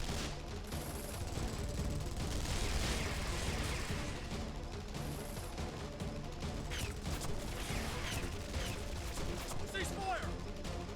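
Soldiers open up with rapid gunfire in the fighting game Guilty Gear Strive, a dense sustained fusillade of crackling shots layered over a busy background of music and effects.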